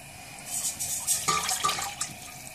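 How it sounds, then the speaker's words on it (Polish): Chicken broth pours and splashes into a pot in an uneven stream, gurgling moderately close by with no voices. "Wlewamy bulion do garnka, no i czekamy aż się zagotuje."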